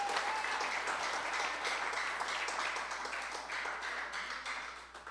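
A church congregation claps loudly in praise to the Lord during a sermon, a full, continuous patter of many hands that holds steady and then begins to thin and fade toward the end.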